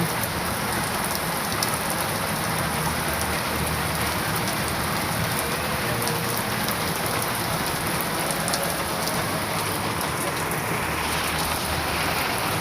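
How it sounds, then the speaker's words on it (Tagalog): Heavy rain pours down in a dense, steady hiss, drumming on surfaces without pause throughout. "Lumakas po lalo ang ulan ngayon."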